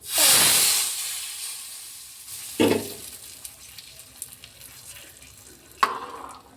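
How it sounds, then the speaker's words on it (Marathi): Hot ghee tempering with cumin and mustard seeds for kadhi bursts into a loud, close hiss that fades over a couple of seconds. Two shorter sizzling flare-ups follow, with faint crackles between them. "देईन मी आता याला तडका माझ्या कढीला."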